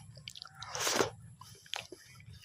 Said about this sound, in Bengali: শালবনে এসে কাঁঠাল খাচ্ছে ব্রাদার্স